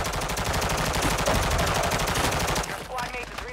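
Rapid automatic gunfire in Call of Duty Warzone on Ashika Island, a loud, fast rattling burst from behind the player lasting a few seconds before breaking off.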